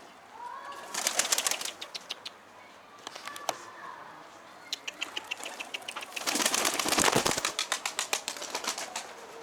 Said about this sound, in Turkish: Kuşların hepsi yukarı kalkmış